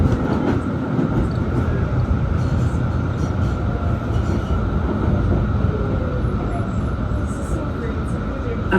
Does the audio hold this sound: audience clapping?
no